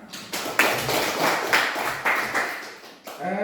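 Applause in a classroom after a group presentation, several sharp bursts of clapping that rise and fade in short waves, fairly close and loud, with no talking over it.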